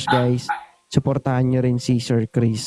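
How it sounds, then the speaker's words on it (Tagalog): A dog barks in short bursts close to the microphone, mixed in with someone talking continuously during a live stream. "Sorry po sa tahol ng aso"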